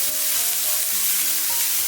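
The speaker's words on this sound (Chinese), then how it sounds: "油热之后下入葱姜蒜，开小火给它煸炒出香味" Scallion, ginger and garlic sizzle in hot oil in a wok over low heat, a steady, close crackling hiss with faint stirring scrapes and no voices.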